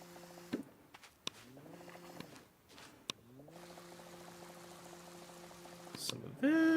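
Video game plants being watered, with several separate short pouring and splashing bursts broken up by chiming tonal cues that rise and fall, separated by quiet gaps, then a louder water effect at the end.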